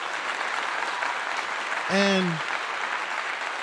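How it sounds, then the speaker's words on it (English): Applause sound effect played on a live stream, a steady crowd-clapping wash at moderate level, briefly overlapped by a single spoken word from a voice. "Let me go here with a clap to you."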